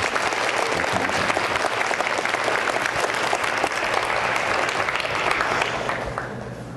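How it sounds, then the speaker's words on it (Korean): A church congregation at a women's Bible study gathering claps in a sustained, even round of applause that fades toward the end, with no speech on top. "우리 다시 한번 박수해 주시기 바랍니다"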